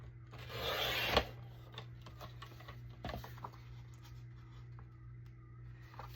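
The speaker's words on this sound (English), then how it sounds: "we're going to go ahead and take our trimmer and just cut just a little tad off the top" A paper trimmer slices a little off the top of a 9x6 envelope in one brief swishing cut near the start, followed by faint rustling and handling noises over a steady background hum.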